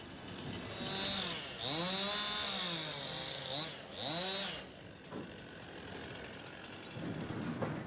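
A chainsaw revs up and down in repeated rising and falling surges, fairly distant, cutting wood on Wismar Bay on the Baltic Sea coast, then drops to a low idle near the end.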